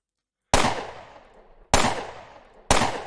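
Three loud, sharp gunshots in a video game ring out alone at spaced intervals, each with a crisp attack and a lingering echoing tail.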